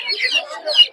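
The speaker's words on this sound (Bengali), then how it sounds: "এগুলা কি দেশি মুরগির বাচ্চা?" Native chicken chicks at the Gausia Golakandail poultry market: a cluster of shrill, rapid peeping chirps, close and fairly loud, with a quieter stretch between bursts.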